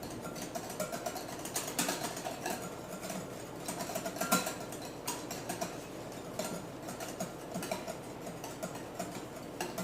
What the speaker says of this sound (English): I'm going to add a little bit of oil at a time, just to get it a little bit thicker.